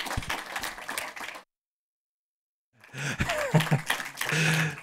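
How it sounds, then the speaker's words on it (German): A cinema audience applauds the film director Max Linz, with a burst of clapping broken by a moment of silence and then clapping again, some voices mixed in and the sound fairly quiet. "Herzlichen Applaus, Max Linz"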